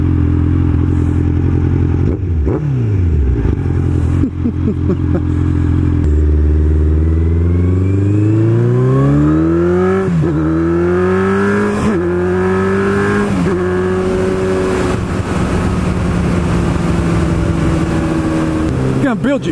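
A loud 1000cc motorcycle engine with full fairings revs repeatedly, pitch climbing and falling in bursts, with a steady rumbling idle underneath and some mechanical clatter.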